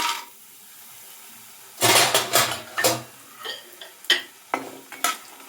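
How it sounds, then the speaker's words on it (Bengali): Bori, small sun-dried lentil dumplings, rattle and scrape in a pan as they fry, with a quiet start giving way to a loud burst of clatter, then a run of sharp intermittent stirring knocks and light sizzle close by. "বড়িটা এবার আমি ভালো করে ভেজে নেব"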